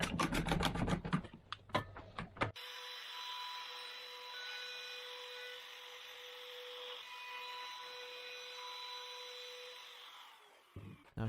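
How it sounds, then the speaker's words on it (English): A router cuts a 1/4 inch radius round over on a cherry wood end-grain cutting board, a steady loud high whine with a constant pitched hum lasting several seconds, preceded by sharp clattering knocks. "1/4 inch radius round over."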